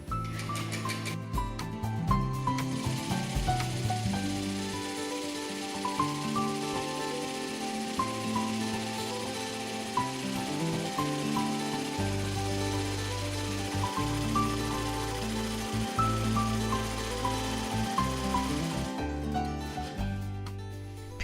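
An embroidery machine stitches textile stretched in a hoop, producing a steady, loud, mechanical whirring and rapid needle clatter that runs unbroken for the whole stretch.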